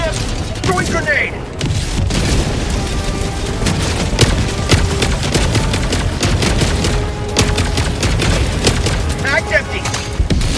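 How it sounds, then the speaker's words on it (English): A grenade explosion and gunfire in Helldivers 2: dense, loud rattling volleys with booming blasts throughout, a continuous chaotic firefight with faint voices mixed in. "Throwing grenade!"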